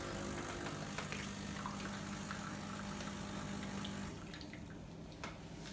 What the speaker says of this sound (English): Now it's going to clean the coffee grind section for us.